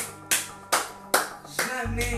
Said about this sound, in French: on peut l'applaudir encore très très fort